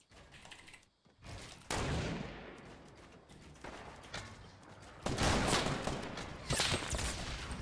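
In Fortnite, bursts of gunfire crack out in rapid fusillades with a grenade launcher among them, loud dense volleys separated by short gaps and a near-silent pause early on.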